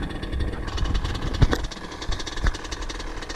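A small new 50cc two-stroke motorcycle engine being revved during break-in, a buzzy rattling drone with uneven surges and a couple of sharp knocks, close by and steady.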